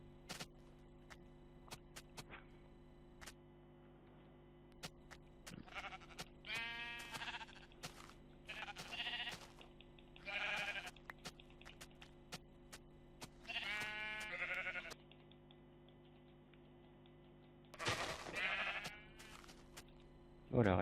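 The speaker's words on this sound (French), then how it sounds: "Oh, il y a plein de moutons." Blocky sheep in the game Minecraft bleat in several separate wavering calls, spaced out over a steady low background hum.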